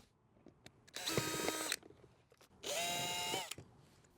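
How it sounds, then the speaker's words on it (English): A power drill drives screws to fasten the dome of a 1916-style funnel dome mousetrap, two separate whirring bursts of about a second each, close and moderately loud, with quiet handling noises between. "So I'm going to secure the dome with some screws."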